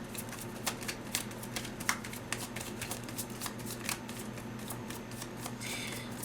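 Deck of tarot cards being shuffled by hand, a string of quick riffling flutters and soft taps in an uneven rhythm, close and quiet, with no voice.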